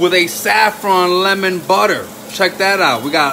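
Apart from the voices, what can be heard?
None of the usual background noises is heard.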